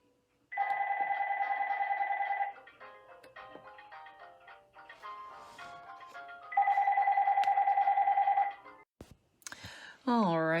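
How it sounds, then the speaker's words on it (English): A cell phone rings with a repeating electronic ringtone, two loud bursts of bright pulsed tones separated by a quieter stretch of clicks and small sounds, ending with a short rising and falling electronic chirp. "And there goes my phone."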